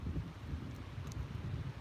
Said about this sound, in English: It's a windy day today. Have you been noticing that? Hearing the wind?